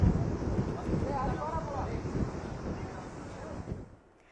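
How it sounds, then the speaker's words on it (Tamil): Strong cyclone wind buffets a microphone on the coast near Mamallapuram, a loud continuous roar with gusty low rumble, while a faint voice sits underneath before the wind drops away at the end. "அந்த இடத்துல எந்த அளவுக்கு பலத்த காற்று வீசுது"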